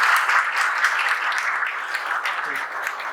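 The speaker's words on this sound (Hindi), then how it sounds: "ताली बजाइए अनुराधा के लिए।" Indoor applause from a classroom audience at a toppers' ceremony for a civil engineering coaching institute, steady and moderately loud throughout, with faint voices mixed in.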